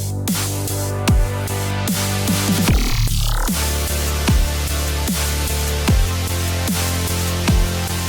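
Melodic dubstep bass fill samples layered together play in a song: a thick sustained low bass with rhythmic punchy hits and pitch drops, plus a sweeping filtered swell near the middle, with no voices.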